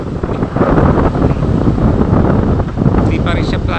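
Strong wind buffets the microphone by the sea where boats wait to cross, a loud continuous roar with rumbling low gusts and the wash of choppy water underneath, steady throughout.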